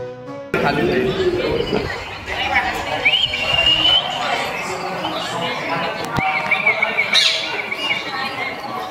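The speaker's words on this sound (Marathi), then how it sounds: "इथं पोपट पण आहेत." Shrill parrot squawks and calls ring out intermittently over busy background chatter and people talking at Badami Caves.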